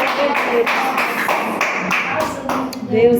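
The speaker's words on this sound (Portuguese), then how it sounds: "Aplauda o nome do Senhor" A church congregation claps in rhythm during a worship service, sharp repeated claps roughly every half second over voices and reverberant room sound.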